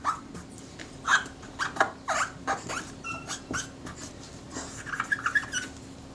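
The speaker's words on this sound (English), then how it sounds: "That's just a tui you can hear outside the window. They make a lot of funny noises." A tui calls outside a window with a run of varied chirps, clicks and squeaky whistles in irregular bursts, moderately distant and fairly soft over quiet room tone.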